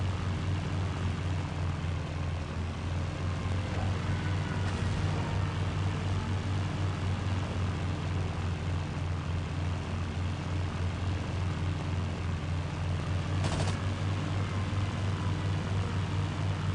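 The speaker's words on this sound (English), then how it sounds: "Even when they're just pulling off of the airstrip, you still have to lead targets on these planes" Propeller plane engines drone steadily on an airstrip in Battlefield 1942, a continuous loud hum with a low throbbing tone throughout, joined by a brief sharp burst near the end.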